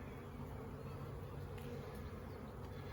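Honeybees buzzing at an open hive during a change back to a single brood chamber, a steady dense drone from many insects close by that holds level throughout.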